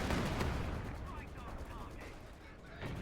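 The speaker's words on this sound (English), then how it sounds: "Oh, look, more artillery coming in." Artillery fire in Company of Heroes 2 rumbles as a distant, muffled barrage of booms and crackles, fairly faint, with a voice talking over part of it.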